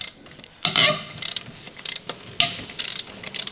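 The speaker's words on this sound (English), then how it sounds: "Use a large 17mm deep socket paired with a large telescopic ratchet wrench." A large telescopic ratchet wrench with a 17mm deep socket loosens wheel lug nuts on a 2010 eighth-generation Honda Civic, giving bursts of rapid close metallic ratchet clicks separated by short pauses.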